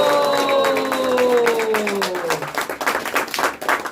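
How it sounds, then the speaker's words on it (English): A round of applause from an audience at a shloka recitation and speech competition rises beneath a fading sustained tone, then turns into irregular, scattered clapping that thins toward the end. "Please give a round of applause."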